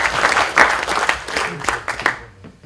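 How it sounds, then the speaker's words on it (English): A crowd applauds steadily, many hands clapping together at close range, then the clapping thins and fades toward the end. "So can we give David another clap"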